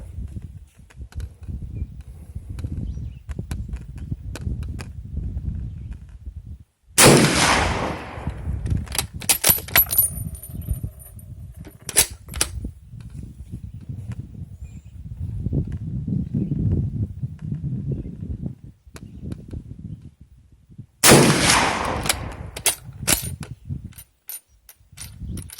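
Two sharp rifle shots from 7mm Mauser reloads with Nosler E-Tip bullets, including a cold-bore shot, about fourteen seconds apart, each a loud blast with a ringing tail over low outdoor rumble and faint handling noise.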